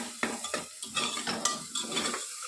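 Tomato and chilli masala for mutton curry frying and being stirred in a pan, a spoon scraping in uneven strokes over a soft steady sizzle, close with no voices.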